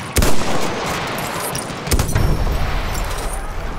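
Battlefield 1 conquest battle with bursts of heavy gunfire, a sharp loud report at the start and another near the two-second mark, over a dense wash of continuous shooting and battlefield noise.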